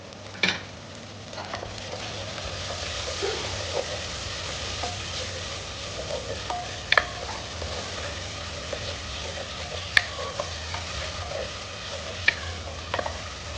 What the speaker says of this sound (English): And we'll continue frying it for some more time.